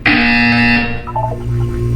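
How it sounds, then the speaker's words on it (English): Test chamber buzzer in the video game Portal 2: a loud, harsh electronic buzz sounding once for under a second, followed by a quieter tonal chime and low ambient hum. "You will hear a buzzer."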